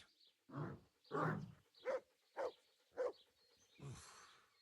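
Dog barks in the medieval game Kingdom Come: Deliverance, a run of six distinct barks at close range, the first two heavier and longer, the middle ones short and evenly spaced, the last one drawn out and breathy.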